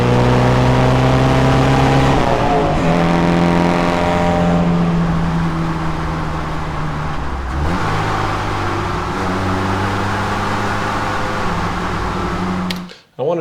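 A car engine revs hard as the car charges toward a close microphone, rising and falling through gear changes, the tone shifting partway as the perspective moves onto the car, then cutting off abruptly at the end.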